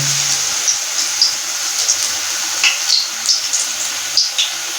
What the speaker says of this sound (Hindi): ये देखिए हमारे पकोड़े अच्छी तरह से फ्राई हो रहे हैं।